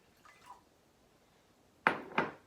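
Peroxide and water stirred together in a container: two quick, close clinks of a utensil against the container after a near-silent stretch.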